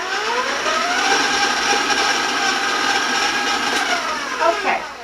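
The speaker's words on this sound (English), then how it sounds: "I'm just going to clean the sides and the bottom of my mixing bowl a little bit and turn the mixer on" An electric mixer whirs steadily in a mixing bowl of sugar cookie batter, a close, continuous motor drone with shifting tones that lasts a few seconds before winding down near the end.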